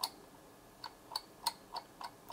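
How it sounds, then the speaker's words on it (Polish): Scroll wheel of a Cooler Master CM Storm Havoc gaming mouse ticking, six or seven sharp, light clicks at uneven intervals, close up and quiet, with no voices. "Tak to klika, mamy dużo wystającą rolkę."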